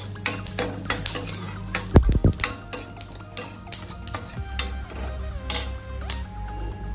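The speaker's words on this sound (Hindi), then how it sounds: "ये मगज को भी कर लेते हैं हम फ्राई" Makhana (fox nuts) and sesame seeds being fried and stirred in a pan, with a steady run of light scraping, clinking and rattling from the spoon and pan plus a soft sizzle underneath.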